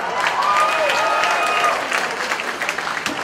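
Audience at a designer runway show claps in a sustained burst of applause that swells, then thins to scattered claps, with faint crowd noise underneath.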